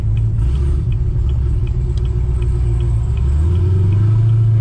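A car driven at low speed, its engine and exhaust giving a steady deep rumble that holds and then shifts slightly in pitch, heard from close by inside the car with no talking.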